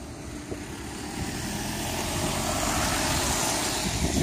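A 2006 Vauxhall Astra SXi is driven off, its engine and tyre noise rising steadily into a broad roar as it moves away.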